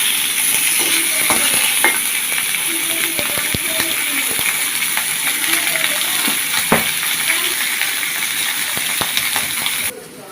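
Fish head frying in hot oil in a home kitchen, a steady dense sizzle with scattered clicks and scrapes from stirring, close and continuous before stopping abruptly near the end.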